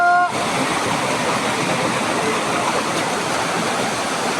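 Mountain stream and waterfall in the Girnar forest near Junagadh, a steady loud rush of falling water filling the whole clip, with a brief tonal sound at the very start.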